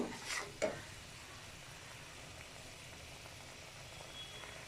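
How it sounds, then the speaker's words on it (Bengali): Cumin and ginger paste stir-fried together with nut paste for egg korma, a faint, soft sizzle with a couple of light utensil knocks at the start. "তারপরে জিরা আদা বাটা। একসঙ্গে আমি সবগুলা কষাবো, কষিয়ে নিব।"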